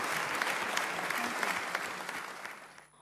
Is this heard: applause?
yes